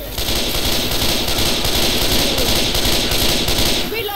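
Sustained automatic gunfire in Left 4 Dead 2, a loud, dense rattle of rapid shots running unbroken for several seconds.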